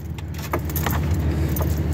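Keys jangle and rattle near the ignition of a car as a key is inserted and turned, a bright metallic clinking over a steady low rumble.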